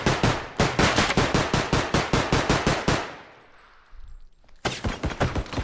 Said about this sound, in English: I'm popping off with a pistol!